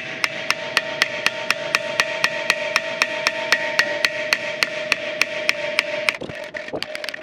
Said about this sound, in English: brass hammer method.